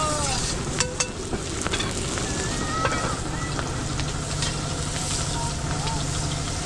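Sisig fries on a hot griddle at an outdoor food park, a loud, steady sizzle with sharp metallic clanks of a spatula now and then and faint voices in the background.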